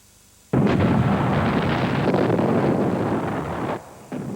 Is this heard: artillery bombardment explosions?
yes